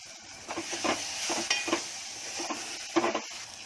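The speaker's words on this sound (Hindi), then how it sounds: "अब इसमें डाल रही हूँ अपना टमाटर और मिर्ची के टुकड़े" Tomatoes and chili pieces sizzle and spatter in a hot pan with fried spices while a utensil scrapes and stirs in short, irregular strokes, with no voices.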